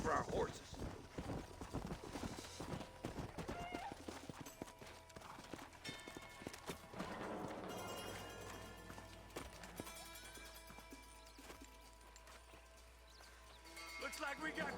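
Horses' hooves clip-clopping at a run in the Red Dead Redemption video game, a steady rapid patter across most of the stretch, mixed under game music and spoken dialogue.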